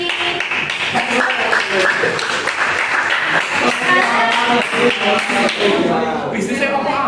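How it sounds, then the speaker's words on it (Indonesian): Students in a classroom break into applause, a dense patter of clapping hands close by and fairly loud, mixed with scattered taps and thumps and a few voices underneath. "Oke, tepuk tangan untuk integrasi."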